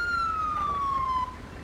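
Ambulance siren in GTA V with the LSPDFR mod, a steady wailing tone sliding slowly downward, loud and close, over low traffic rumble before cutting off abruptly near the end.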